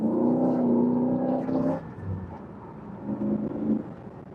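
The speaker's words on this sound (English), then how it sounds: "Nice little burble from the exhaust." A 1966 Pontiac GTO Tri-Power convertible with a four-speed, its exhaust giving a steady low burble as it accelerates, then easing and rising again, close and fairly loud.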